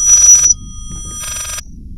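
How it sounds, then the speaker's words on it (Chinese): A telephone rings in the horror game Layers of Fear, two loud electronic bell bursts separated by a short pause, with no talk over them. "有个电话"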